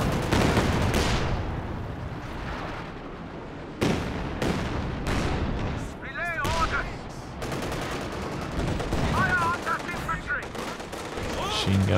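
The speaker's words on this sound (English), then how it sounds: "Machine gun." Machine gun fire rattles through a Company of Heroes 2 multiplayer battle between Soviet and German forces, with loud repeated bursts and sharp cracks amid booming impacts, plus other battle noise layered throughout.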